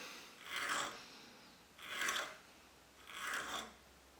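A hand file rasps across a metal extractor hook clamped in a vise, three slow, even strokes with short pauses between them, close and fairly quiet.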